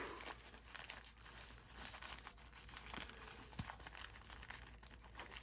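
A plastic bag crinkles and rustles inside a get-home bag pouch, close and continuous with scattered sharper crackles, and no voices are heard.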